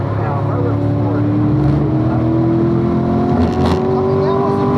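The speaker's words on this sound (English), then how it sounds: "I mean, that was a full race car." A full race car's engine drones loudly at close range as it passes, its pitch sliding steadily upward with a broad mechanical roar throughout.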